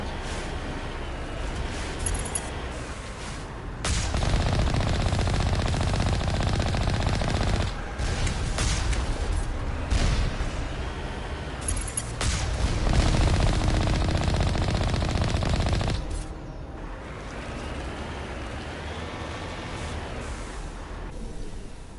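Long, loud bursts of automatic weapon fire in Mass Effect, sustained volleys lasting several seconds each with brief lulls between them and little talking.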